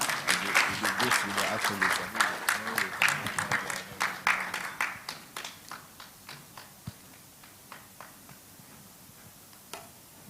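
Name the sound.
audience applause welcoming a speaker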